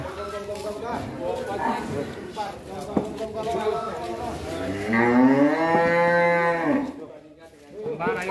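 An agitated, brightly painted cow that has broken out of its pen in a village lets out a long, loud, close moo as people talk excitedly around it, with shuffling and thumps before and after.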